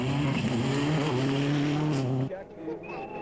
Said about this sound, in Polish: Tu nie udało im się dohamować auta i uderzyli w drzewo